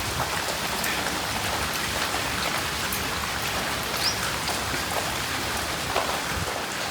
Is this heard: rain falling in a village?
yes